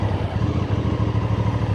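A 2025 QJmotor RACE 550S, a 270-degree-crank twin, idles in first gear with a steady, close, throbbing exhaust beat and a low rhythmic pulse throughout.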